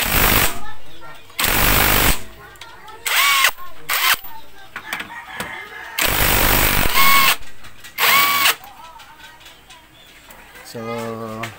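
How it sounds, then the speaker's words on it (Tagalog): An impact wrench fitted with a 17mm socket loosens a nut on a motorcycle's steering head during a ball race replacement. Several loud, rattling hammering bursts of a second or so each come up close, separated by short gaps, with a voice talking in between. "So dito mga boss, gagamit tayo ng impact. Tapos etong ating socket ay 17mm."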